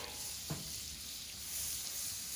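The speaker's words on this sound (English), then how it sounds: "we're going to throw down some oil and some butter, and we're going to start sweating these onions" Onions sizzle in oil and butter on a Blackstone griddle, a steady low hiss throughout with a brief soft clink near the start.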